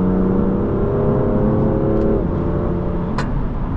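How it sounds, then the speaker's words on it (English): A BMW fitted with a DCT dual-clutch gearbox accelerates hard, its engine note climbing and then dropping sharply at a quick gear change before pulling again, loud and close with a steady rising tone. "the way this thing just changes gears"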